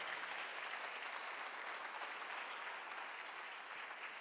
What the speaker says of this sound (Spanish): Den un gran aplauso al Señor por eso.